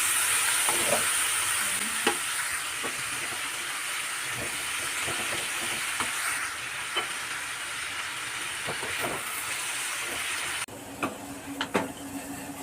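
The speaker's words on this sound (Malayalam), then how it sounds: "നന്നായിട്ടൊന്ന് ഇളക്കി കൊടുക്കാം" Food frying and sizzling in a pan while being stirred for a Kerala-style home-cooked dish, a steady hiss broken by repeated scraping strokes of the spoon, close and continuous, with no talk.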